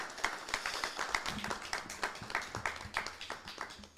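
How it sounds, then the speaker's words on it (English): A roundtable audience on living with sickle cell gives a round of applause, scattered claps of moderate loudness. They start uneven and build into a steady patter. "please, round of applause for you all"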